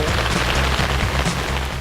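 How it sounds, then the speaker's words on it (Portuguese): Hail shower pelting down during a cycling raid between Alvalade and Porto Covo, a dense, steady patter of ice hitting surfaces with a constant low rumble, loud and continuous without any voices. "Era descargas de granizo durante 5-10 minutos"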